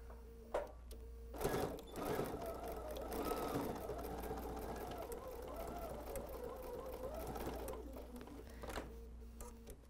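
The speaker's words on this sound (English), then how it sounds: "And we'll go sew another half inch seam allowance." A sewing machine stitching a half-inch seam through bulky layers of a quilted tote, running in a steady whirring burst for several seconds after a brief start, close and moderately quiet, with a short back-stitch pause near the end.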